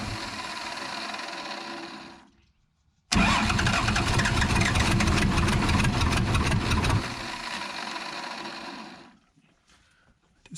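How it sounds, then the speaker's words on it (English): A Case loader's diesel engine cranks after an injector repair, falls silent briefly, then catches and runs loud and rough for several seconds before dropping to a lower idle and cutting out. "Try and start this thing up."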